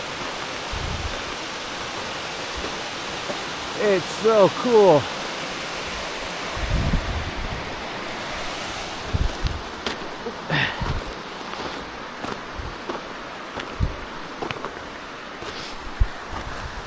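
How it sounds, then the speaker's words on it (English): A steady broadband roar of rushing water from a waterfall on Mount Moosilauke in winter fills the scene, with a brief spoken remark and a few scattered footstep-like thumps over it. "How sick just getting to hike next to this waterfall."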